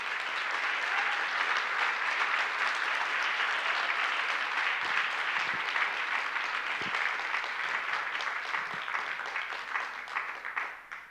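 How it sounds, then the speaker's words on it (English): At a data science hackathon, the crowd gives participants a long, full round of applause, steady and even for about ten seconds before it tapers and dies away at the end. "let's give a second round of applause to our data science participants"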